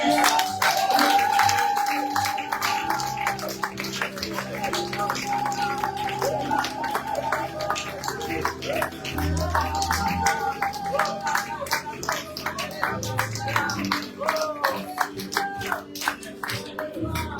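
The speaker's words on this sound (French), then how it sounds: "Alors ce matin, acclame Jésus le Christ" A church congregation claps rhythmically in acclamation during a worship service, steady hand claps blending with music and voices throughout.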